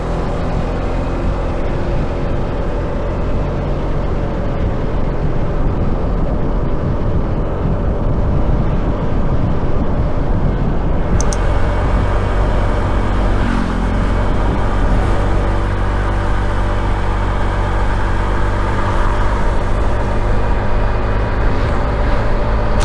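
Continuous motorcycle engine drone with heavy low rumble and wind buffeting, captured by a camera's internal mic mounted on the bike while riding, with a brief shift in tone midway; no voices.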